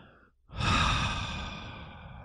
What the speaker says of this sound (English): breathe with deep, slow belly breaths with an open mouth